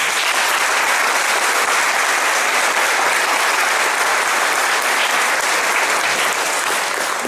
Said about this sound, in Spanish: regalemos un fuerte aplauso